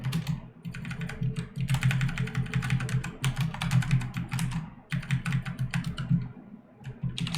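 Steady bursts of rapid typing on a computer keyboard while code is written, close and clear, with short pauses between runs of keystrokes and no speech.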